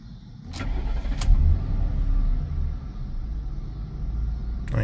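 A large old car's engine cranks and catches, settling into a low steady idle rumble nearby, with a few faint clicks at the start.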